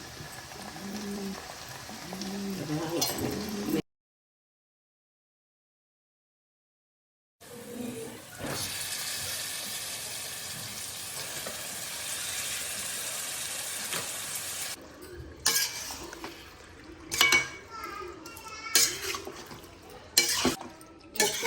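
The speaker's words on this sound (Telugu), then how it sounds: "బాగా ఉడికేదాకా తిప్పుతానే ఉండాలమ్మా" Pepper chicken with curry leaves, onion and ginger-garlic paste stirred in a pan, a steady sizzle with scraping spoon strokes, interrupted by a silent gap and ending in sharper clatters.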